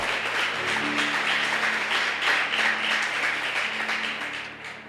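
Church audience applauding, steady dense clapping with a low hum or tone underneath, sustained for the whole stretch and fading slightly at the end.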